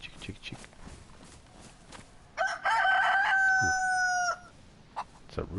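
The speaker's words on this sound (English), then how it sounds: "It's a rooster" A rooster in the survival game DayZ crows once, loud and near, a drawn-out harmonic call lasting over a second, with soft footsteps and movement around it before and after.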